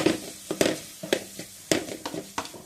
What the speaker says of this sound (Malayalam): 1/2 ടീസ്പൂൺ ചിക്കൻ മസാല എന്നിവ ചേർത്ത് നന്നായി ഇളക്കുക